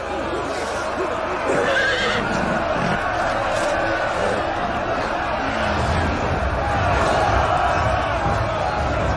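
Cavalry horses neigh and whinny amid a continuous noisy battlefield din, with hooves clopping faintly beneath a crowd-like roar throughout.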